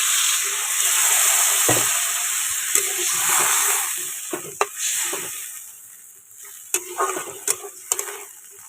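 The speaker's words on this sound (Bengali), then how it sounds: "এবারে পরিমাণ মতো জল ঢেলে দেবো।" Water hits a pan of snakehead fish curry frying in a little oil, setting off a steady close hiss and sizzle that gradually thins into scattered pops and crackles.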